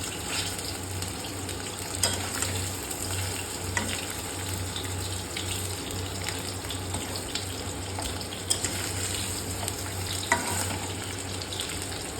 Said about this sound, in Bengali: পনির আমি বেশি ফ্রাই করব না, জাস্ট একটু ব্রাউন হলেই তুলে নেব